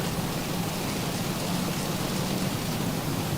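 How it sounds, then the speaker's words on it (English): Rain pelting the aircraft in the X-Plane 12 flight simulator, a dense steady hiss of drops on the airframe, constant and even throughout, with no voices. "Don't see any rain, but I can hear it pelting the aircraft."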